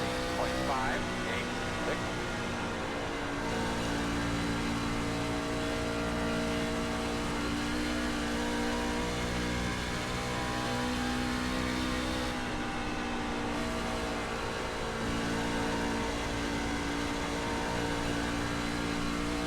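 A C-Fixed race truck engine in iRacing drones loudly and steadily at Dover Motor Speedway, holding high revs with a brief dip as the throttle lifts and comes back on, running continuously under the driver's commentary.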